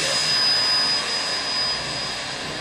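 Compressed air rushes steadily from a cascade bank valve opened during a fire department cylinder-filling drill, a loud continuous broadband hiss with a thin high whistle, no talk.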